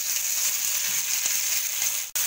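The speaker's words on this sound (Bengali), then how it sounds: "টমেটো গুলো দিয়ে দিলাম।" Tomatoes hit a hot pan for a winter chutney and sizzle steadily, a close, continuous frying hiss that ends with a sharp click.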